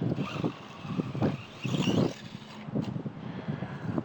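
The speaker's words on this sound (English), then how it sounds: "this little brush motor is actually spinning the tires" A WL Toys 144001 1/14 brushed RC car speeding along, its small motor whining in short bursts as the throttle rises and drops, close by.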